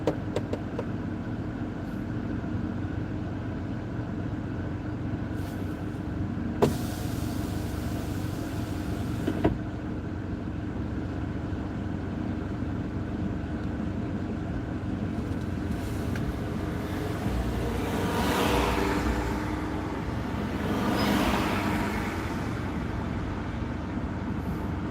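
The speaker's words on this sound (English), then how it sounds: "Why do we have such traffic tonight?" Night street traffic at a Sebastopol street party, with faint steady road rumble, a vehicle swelling past near the end, and a couple of brief clunks midway.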